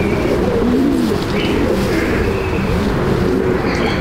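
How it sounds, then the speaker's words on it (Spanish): Pigeons cooing outdoors in a rainy, heavily vegetated area where racing homing pigeons are being released, soft repeated low coos close by, no voices. "Paloma estaba a la espalda mía, volando."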